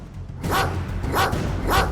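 A vicious dog barks three times in a steady rhythm, loud and close, each bark a sharp burst over a low rumbling background with no speech.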